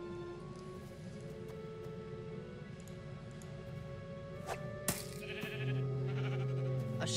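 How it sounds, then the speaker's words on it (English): A sheep bleats a few times in the video game Minecraft Story Mode, the calls fairly clear over a soft ambient background, with a brief louder sound effect in the middle. "A sheep?"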